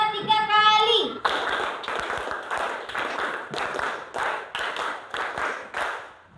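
Sixth-grade primary schoolchildren in an Indonesian classroom play a counting clapping game. A voice is heard first, then the class claps together in a series of sharp, evenly spaced bursts of rhythmic claps.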